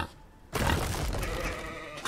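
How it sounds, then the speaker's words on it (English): A sheep in the Western video game Outlaws of the Old West bleats loudly and close, one drawn-out wavering cry lasting over a second, with no talking. "It's just a sheep."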